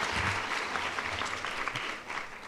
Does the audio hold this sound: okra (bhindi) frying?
no